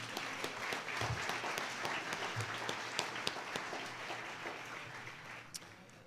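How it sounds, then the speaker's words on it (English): An audience at a volleyball hall of fame induction ceremony applauds steadily for several seconds, a dense, even wash of many hands clapping that slowly fades. "a big round of applause for all our sponsors, please"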